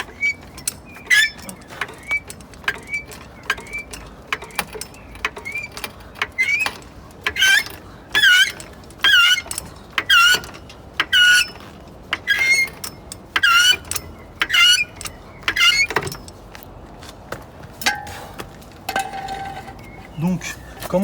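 Rhythmic metallic ratcheting and squeaking as a car jack is pumped to lift a vehicle, repeated strokes close by, growing steadier, with a brief voice near the end.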